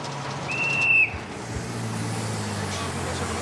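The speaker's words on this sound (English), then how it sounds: "heard the policeman's whistle just in time to let go." A single sharp, high policeman's whistle blast lasting about half a second, heard over steady traffic rumble on a road in Burundi.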